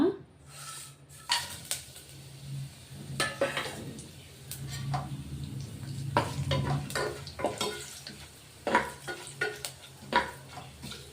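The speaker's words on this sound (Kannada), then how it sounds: "ನೋಡಿ ಎಣ್ಣೆ ಕಾದಿದೆ ಒಂದು ಸ್ಪೂನ್ ಜೀರಿಗೆ ಎರಡು ಮರಾಠಿ ಮೊಗ್ಗು ಒಂದು ಸ್ವಲ್ಪ ಚಕ್ಕೆ ಎರಡು ಏಲಕ್ಕಿ ಒಂದು ಪಲಾವ್ ಎಲೆ ಸ್ವಲ್ಪ ಕಸ್ತೂರಿ ಮೆತ್ತಿ ಹಾಕ್ಕೊಳ್ಳೋಣ" Cumin, cloves, cinnamon, cardamom, a bay leaf and kasuri methi fry in hot oil for hotel-style masala tomato bath, a low sizzle broken by repeated spoon clinks and stirring scrapes against the pan.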